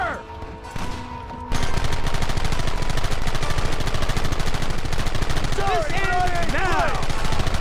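Sustained, rapid gunfire fills a Red Dead Redemption shootout, dense bursts running almost continuously at close range after a quieter start, with faint voices mixed underneath.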